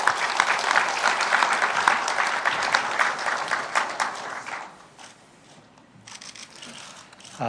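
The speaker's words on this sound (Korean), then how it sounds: "기조연설 박수로 청해 주시죠." Audience applause at a Kwanhun forum in Korea welcoming a Democratic United Party politician's keynote speech, steady dense clapping for about five seconds before thinning out, then a brief return near the end.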